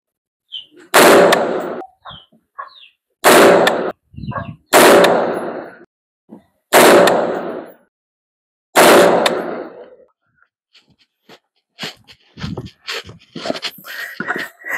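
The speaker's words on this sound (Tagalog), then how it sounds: "Ipag-shot group natin, putok ako ng 5 rounds" Five shots ring out from an Elisco M16A1 rifle on a 25-meter range, loud sharp cracks spaced roughly two seconds apart, each followed by a short tail, with scattered quieter sounds afterward.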